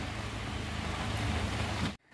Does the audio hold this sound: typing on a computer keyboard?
no